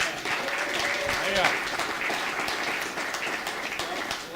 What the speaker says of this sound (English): Will you please give him a warm round of applause?